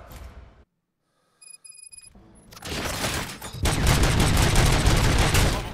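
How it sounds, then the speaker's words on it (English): Gunfire in the video game RoboCop: Rogue City bursts in after a brief near-silence with a few high electronic beeps, then grows into a dense, loud, continuous barrage of shots that intensifies toward the end. "Gunshots? What's going on?"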